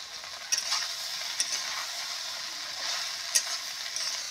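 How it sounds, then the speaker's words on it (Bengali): Eggplant sizzling in hot oil as it fries, a steady broadband hiss with a few sharp pops and crackles, close up and alone. "এবার বেগুনটা দিয়ে দিব।"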